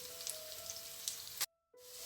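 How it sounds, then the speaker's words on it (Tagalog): Potatoes fry in a pan with a steady, fairly quiet sizzle and a few small pops, broken by a brief gap of near silence before the sizzle resumes. "na iprito na natin yung ating patatas"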